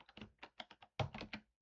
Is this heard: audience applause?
no